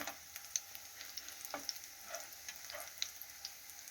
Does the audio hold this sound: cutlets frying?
yes